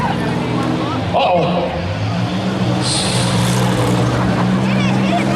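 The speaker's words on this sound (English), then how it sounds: "You'll notice the 17X starting to sound like a tractor" A compact demolition derby car, the 17X, at a county fair pure stock compact event runs rough and uneven like a tractor, engine droning loud and close amid crowd noise while a person exclaims.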